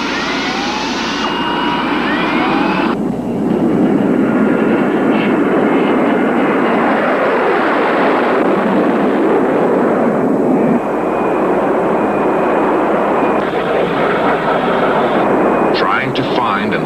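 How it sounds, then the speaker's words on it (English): A jet fighter roars overhead in a sustained, loud rumbling rush with shifting engine whine, while a narrator's voice talks over it throughout. "The Air Force scrambled jet fighters from McChord Air Force Base near Tacoma to follow the plane"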